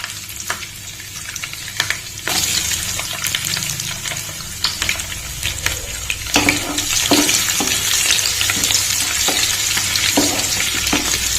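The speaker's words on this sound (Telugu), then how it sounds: "ఇప్పుడు మనము వెల్లుల్లి వేసుకున్నాం కొంచెం మంచిగా ఫ్రై అవ్వాలండి" Chopped garlic fries in hot oil in a pan for a tempering for ponnaganti leaf dal, a steady loud sizzle with occasional stirring scrapes and clinks throughout.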